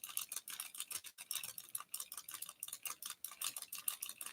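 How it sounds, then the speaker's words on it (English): Quick, light plastic clicks from a knitting tool cranking out I-cord, repeating in a steady, rapid rhythm, faint and close with no talk over them. "it makes a nice, cute little clicking sound."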